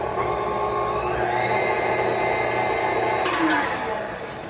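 An electric mixer whirs steadily as it beats egg and powdered sugar into a filling, a constant droning motor hum with a few clanks near the end as it winds down.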